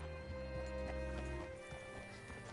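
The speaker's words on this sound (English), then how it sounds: "Hitch your horse up here." Steady clip-clop of horse hooves at a walking pace in a video game, over a sustained musical backdrop, with a brief whinny-like tone.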